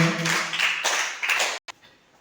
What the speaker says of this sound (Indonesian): kita beri tepuk tangan dulu untuk teman kalian